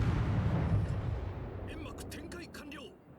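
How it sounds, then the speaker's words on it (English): A torpedo strikes an enemy Fubuki destroyer in World of Warships, giving a deep, rumbling explosion that fades away, followed by a voice talking. "when the torpedo left of our barrage hits them"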